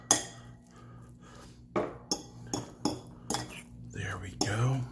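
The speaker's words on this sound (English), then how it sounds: "we want to take some of our gravy and pour that in there and mix that up" Leftover filling stirred together with gravy in a dish: soft, irregular utensil scrapes and clinks against the dish, quiet and close, with faint speech mixed in.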